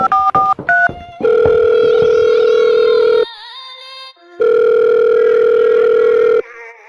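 A telephone being dialled: a quick run of keypad tone beeps, then long, steady, loud tones broken by a short pause, with no talking.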